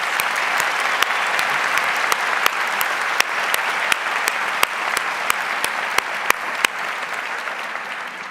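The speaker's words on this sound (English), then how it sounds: "Please join me in another round of applause." Audience applause at a university honors convocation, following a performance of the Star-Spangled Banner: a dense, steady wash of many hands clapping that holds at an even, loud level for the whole stretch, with sharp individual claps standing out.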